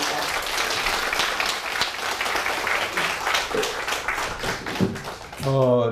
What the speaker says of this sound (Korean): 큰 박수로 강연을 맞아주시기 바랍니다.